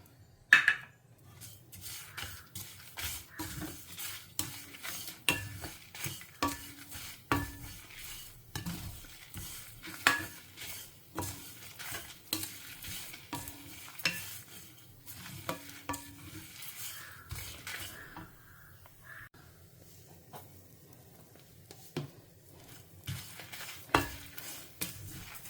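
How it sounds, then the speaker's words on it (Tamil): Fenugreek, curry leaves and dry copra roast in a dry pan without oil, stirred in a steady run of scraping strokes over a faint sizzle, fairly quiet and close, with no talking. "கருவேப்பிலை வாசனை வரைக்கும் வறுத்துக்கலாம்"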